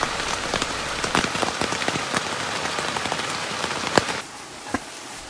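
Steady rain pattering densely on a nearby tent by a mountain stream valley, with sharper individual drops ticking through; the hiss eases slightly toward the end.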